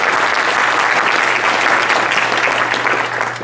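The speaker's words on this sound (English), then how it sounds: "Let's give a round of applause once more to our annual sponsors and our program partners" At an anniversary gala, a large audience gives steady, loud applause that is continuous and dense for the whole stretch, with a faint low hum underneath.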